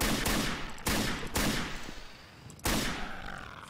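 Repeated gunfire from a weapon shooting zombies in Gmod, a zombie apocalypse sandbox game: four loud, sharp bursts with short ringing tails, spaced unevenly and heard alone.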